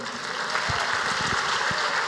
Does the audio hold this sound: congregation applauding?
yes